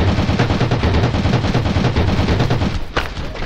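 Rapid automatic gunfire rattles through a battle in the war game Days of Heroes, a continuous stream of loud, close bursts with a sharper crack standing out near the end.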